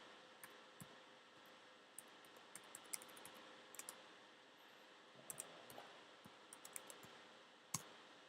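Quiet, close typing on a computer keyboard while setting up Arch Linux, with irregular clicks and small clustered bursts of keystrokes over a low background hiss.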